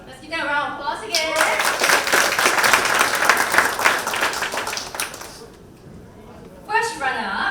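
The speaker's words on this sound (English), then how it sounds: "let's give them a round of applause again." An audience at a startup demo day summit gives a loud, sustained round of applause lasting about four seconds, with a speaker's voice before and after it.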